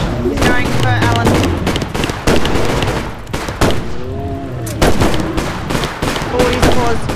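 Rapid gunfire while players shoot at Bigfoot in a multiplayer video game, with loud dense bursts and repeated shots throughout and excited voices shouting over the shooting.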